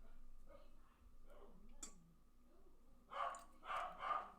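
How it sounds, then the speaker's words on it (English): A dog barks repeatedly at a door somewhere in the home, several sharp bursts toward the end, heard at moderate distance and fairly faint against a quiet indoor background. "The dog is just barking at the door like crazy."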